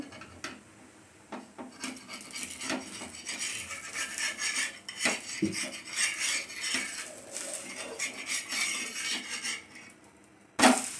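Thalipeeth is flipped and roasted in a pan over low heat, with clattering and scraping of a spatula against the metal, irregular rubbing strokes and a few sharp knocks, fairly close and with no talking.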